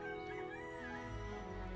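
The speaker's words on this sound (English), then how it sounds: "the roosters crowing," Morning rooster crowing with chickens clucking at a farm, quite faint and distant amid a busy background of birds chirping, with no talking.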